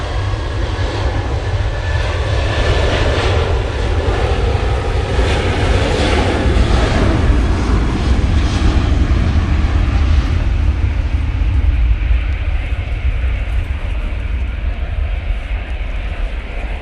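A plane departs Manchester Airport on a windy day, its engines a loud, continuous roar that holds steady throughout and fades slightly toward the end.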